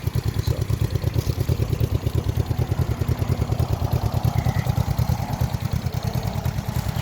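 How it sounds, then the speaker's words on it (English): A 1975 Honda CB360T motorcycle engine idles steadily nearby, its loud, even low-pitched pulsing holding a constant rhythm throughout. "See, she runs pretty good, holds an idle."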